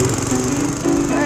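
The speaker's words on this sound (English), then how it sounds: "I think I'm going to start mowing the lawn." A lawn mower engine runs close and loud in a short, steady, rough drone.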